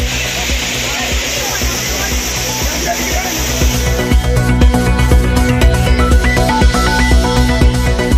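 Water crashes down steadily at Courtallam main waterfall, where tourists bathe at night, a loud broad roar under a newsreader's voice that carries on throughout.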